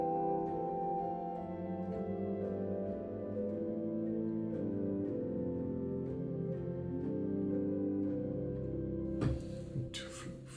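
Sustained notes on a four-foot flute stop of the Bovenkerk pipe organ in Kampen, played from a sample set, a steady polyphonic line with smooth pitch changes, ending in a brief burst of noise.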